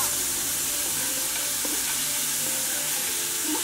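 Onions stir-frying in a pan with sesame oil, a continuous close sizzle and crackle with occasional stirring scrapes, with no talk.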